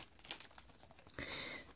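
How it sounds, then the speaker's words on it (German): Metallic wrapping paper is unwrapped at close range, first in scattered light crinkles and then in a sustained, louder crumpling rustle near the end. "Ja, ihr hört das schon wie unsanft, ne? Ja, da haben wir hier dieses metallisch Papier."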